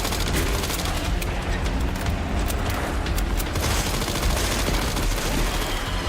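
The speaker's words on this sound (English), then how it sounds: "Gideon, I'm hitting him with like 100 bullets." Rapid gunfire fills a shooter video game match: dense bursts of bullets and automatic weapon fire sound loud and continuous throughout, with booming impacts layered in and no speech.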